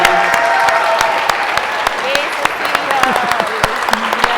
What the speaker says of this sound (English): a very strong round of applause to our guest speakers and Veronica